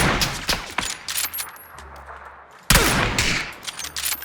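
Gunfire from the PUBG battle royale game: a close, loud burst of rapid shots, a short lull, then a second sharp burst of repeated rifle fire.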